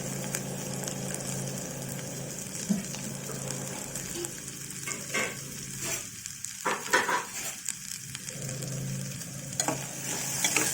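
Potato and carrot pieces frying in oil, stirred in a pan, give a steady close sizzle with scraping stir strokes and occasional clinks throughout.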